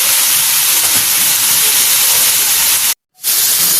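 Vegetables fry in a pan with tamarind added for a Telugu cucumber roti pachadi, giving a loud, steady, close sizzle and hiss that cuts out briefly near the end.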